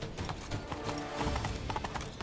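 Horse hooves clip-clop steadily at a brisk pace in The Witcher 3, loud and close over dense outdoor game ambience.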